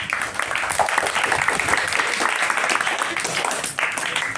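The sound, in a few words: applause from students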